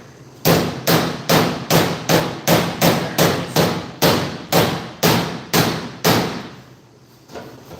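A hammer strikes a metal body panel in a steady series of about fifteen loud, ringing blows, close by and evenly paced, with no voices.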